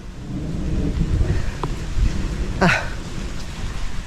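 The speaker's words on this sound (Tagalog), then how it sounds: "Andiyan na naman ang ulan." Steady rain falls at an outdoor building site where fresh concrete has just been poured into four posts, with a bright crack near the middle and low rumbling spread through the loud, continuous wash.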